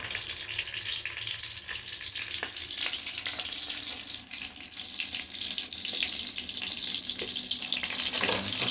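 Food frying until crisp, a busy crackling sizzle that rises and falls, growing louder and more intense toward the end, with no voices.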